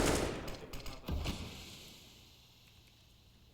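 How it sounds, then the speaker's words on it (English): Bursts of wall-bang gunfire in CS:GO during a pro match on Mirage, several rapid shots clustered in the first second or so, then fading into quieter game ambience. "Smoke spam. Wall bangs."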